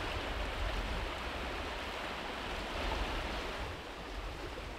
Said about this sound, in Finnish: Kitkajoki virtaa vapaana.